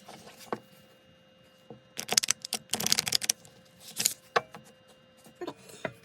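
Crisp bursts of tarot cards being shuffled, riffled and tapped in several quick clusters, close up and fairly loud, with quiet pauses between.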